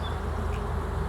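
Steady, dense buzzing of many bees, continuous and fairly close, with no voices.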